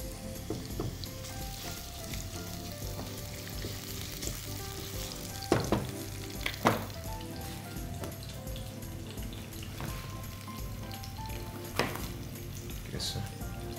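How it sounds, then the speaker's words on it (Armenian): Onion and hot pepper fry in a pan, crackling with a continuous close sizzle. A few sharper pops and clinks break through, and soft talk is faintly present at times. "Սոխ հետ միասին կտապակեմ նաև կծու պղպեղ։"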